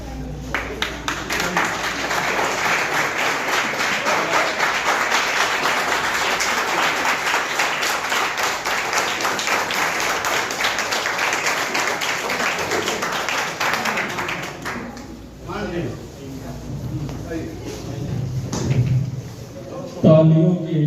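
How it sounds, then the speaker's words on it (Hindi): Sustained applause fills a university auditorium during a ceremony, with dense steady clapping for about fifteen seconds before it fades, after which a voice is heard speaking. "तालियों की ध्वनियों के साथ"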